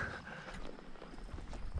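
A ridden donkey's hooves clip-clop in a brisk, uneven patter on an outdoor cattle-drive trail, close and steady over a wash of wind and ambient noise.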